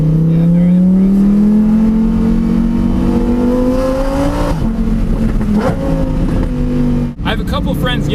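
A Lamborghini Huracan Performante's V10 revs hard up a mountain road, its loud, close engine note climbing steadily in pitch before dipping at a shift and pulling again, with faint voices underneath.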